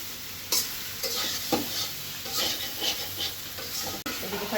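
Garlic and onion sizzle as they fry with vegetables in a pan, a steady close hiss broken by repeated stirring scrapes and one sharp clack near the end.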